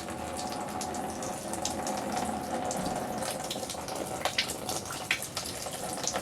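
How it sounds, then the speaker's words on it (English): Water drains steadily out through a slightly plugged drain, a continuous rushing gurgle at close range, with a few brief clicks near the end. "You're going to let this drain until it's completely empty."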